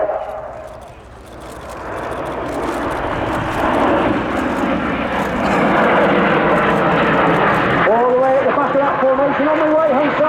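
Red Arrows jets performing the Typhoon Roll at the RIAT airshow, a loud, sustained roar of jet engines overhead that swells steadily, then shifts near the end as another aircraft sweeps past with a rising whine, while a commentator talks over it.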